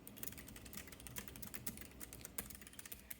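Rapid, steady typing on a wired Keychron K3 low-profile keyboard with brown switches, close and quiet, a continuous patter of soft key clicks with no talk.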